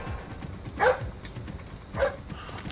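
Guard dogs in the Splinter Cell Blacklist stealth game give two short barks about a second apart, moderately loud over a low ambient game backdrop.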